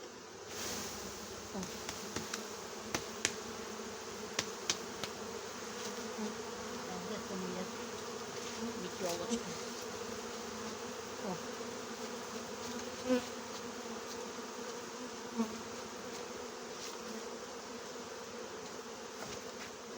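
Honeybee colonies packed into hive frames give off a steady, dense buzzing throughout, with a few brief louder bursts of individual bees flying close by.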